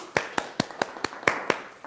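An audience on the Kenyan talk show Obinna Show Live applauds with about eight sharp, evenly spaced claps, close and crisp over a little background noise, with no voices.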